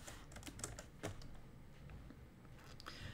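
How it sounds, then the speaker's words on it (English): Fingers tapping out a short phrase on a computer keyboard, a quick run of soft clicky keystrokes at low level, close but quiet, with no voices. "You literally could type in now what."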